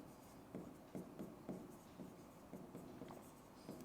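Chalk on a classroom blackboard taps and scrapes in short, evenly spaced strokes, faint and close, as math is written out, with no voices.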